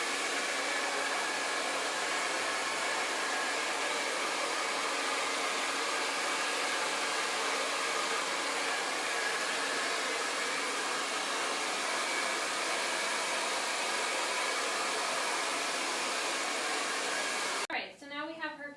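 A hair dryer blows loud and constant at close range while drying hair, then cuts off near the end as a voice begins.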